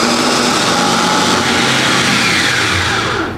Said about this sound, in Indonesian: Ini namanya chopper Mitochiba CH200.